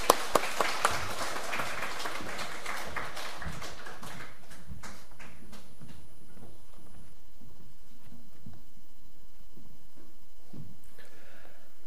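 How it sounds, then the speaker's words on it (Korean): A church congregation at a Sunday service bursts into lively applause, many hands clapping together, then the clapping thins into scattered claps and fades away over several seconds. "앞으로 모실 때 박수로 축복해 주셨으면 감사하겠습니다"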